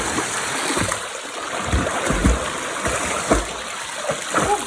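Water splashing and rushing at a waterfall swimming hole, a steady wash with irregular splashes throughout, moderately close and without talk.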